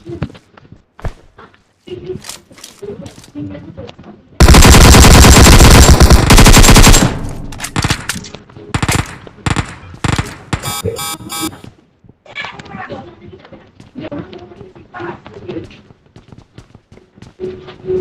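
Automatic gunfire from the mobile battle royale game PUBG Mobile (Battlegrounds Mobile India), a long loud sustained burst followed by scattered single shots and short bursts, with footsteps and game noises between.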